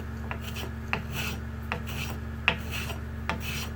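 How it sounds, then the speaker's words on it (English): A rasp shaves wood off a gun stock to fit a butt plate, with repeated scraping strokes at a steady rhythm. A faint, constant mechanical hum runs underneath. "I'm just basically shaving off the wood, and I'm just keeping the contour of the stock as I go"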